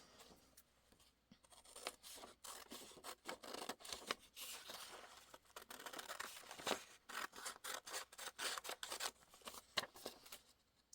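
Scissors cut out paper images for a vintage Christmas junk journal envelope, making quiet, close snips and rustling paper strokes in an irregular run, with no talking.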